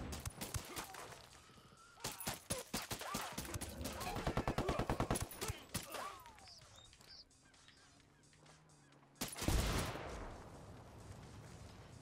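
A flashbang grenade in Ghost Recon Wildlands bursts loudly near the end, after a long stretch of rapid, repeated gunfire cracks.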